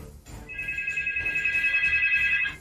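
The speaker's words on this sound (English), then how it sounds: "And you got a phone call." A telephone rings with an electronic ringtone, a steady repeating tone that lasts about two seconds, clear and fairly loud over a faint background murmur.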